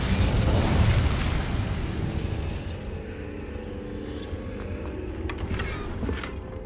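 An Incendio fire spell in Hogwarts Legacy goes off as a loud, close whooshing blast at the start, then fades slowly into a rumbling, crackling tail.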